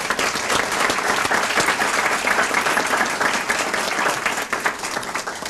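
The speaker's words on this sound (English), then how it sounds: "let's give them a round of applause" Audience at a 1996 Harold U. Ribalow Prize ceremony breaks into steady, dense applause, many hands clapping together at close range and holding level for the whole stretch with no talk over it.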